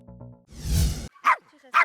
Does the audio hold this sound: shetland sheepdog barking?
yes